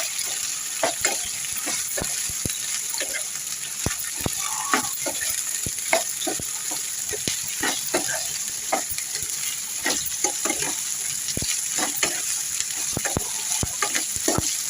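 Cauliflower pieces sizzle steadily in hot oil with onion and garlic paste while a spoon scrapes and stirs the pan in frequent irregular strokes, close and moderately loud throughout, with no talking.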